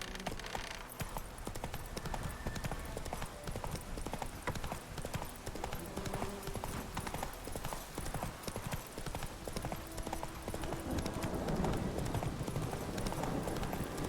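Horse hooves clip-clop at a steady gallop in The Witcher 3, the horse Roach running hard through a game world over a continuous wash of ambient sound and music, with a brief whinny possible.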